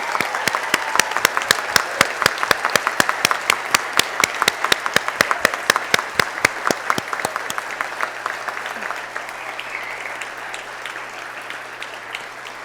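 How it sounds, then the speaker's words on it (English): Convocation ceremony audience applauding Bachelor of Arts Honors Program recipients; steady, crisp clapping from a large hall crowd, strong at first and thinning slightly toward the end, with no voices over it. "Please join me in a round of applause congratulating those recipients of the Bachelor of Arts Honors Program."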